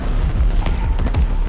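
A rocket explodes during a game: a dense, booming blast that lasts about a second, loud and close, with deep rumbling and a few sharper cracks layered on top.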